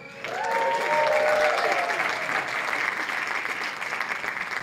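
An awards show crowd at the Connecticut Arts Awards in a music hall bursts into loud, sustained applause with cheers and whoops, close and dense, slowly easing off.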